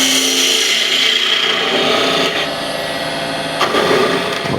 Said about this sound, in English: Spindle gouge to true up the top.